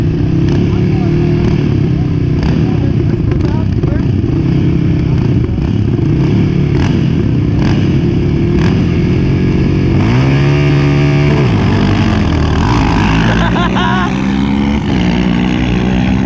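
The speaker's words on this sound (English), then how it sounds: "All right, 2019 versus 2020 model." Two ATVs, a 2019 and a 2020 model, drag race in loud, continuous engine roar, revving and shifting with rising pitch sweeps near the end, while people talk over the noise at a night ride.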